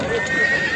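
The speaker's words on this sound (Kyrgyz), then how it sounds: "Бээни караңыздар." A mare standing among other horses at a livestock market near Bishkek, with horse sounds and a brief whinny close by over a continuous crowded market murmur.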